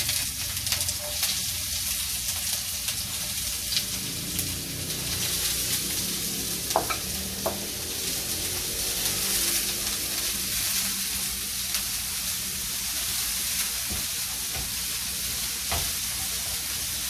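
Onions cook in olive oil in a pan for cassava crab coxinha, giving a steady, even sizzle up close with occasional soft stirring scrapes and no voices.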